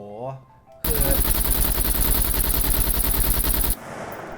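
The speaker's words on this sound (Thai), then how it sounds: "ยิงแบบเป็นแม็กอะครับ ทุกคน" Automatic gunfire in the survival video game SCUM empties a full magazine in one long, rapid, evenly spaced string of loud shots, preceded by brief speech.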